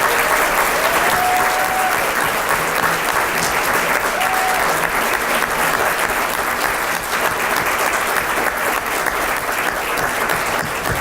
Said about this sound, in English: will all the student awardees please stand up so we can give you a great round of applause